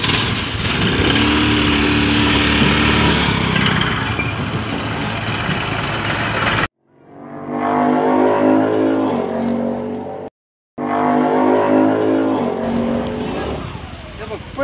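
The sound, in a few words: motorcycle engine running before stalling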